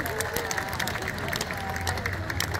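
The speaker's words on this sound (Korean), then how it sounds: "동의하시면 큰 박수 한번 주시기 바랍니다" An outdoor crowd applauds at the closing ceremony of the 65th Miryang Arirang Festival, a dense, steady wash of many hands clapping with faint murmuring and cheering mixed in.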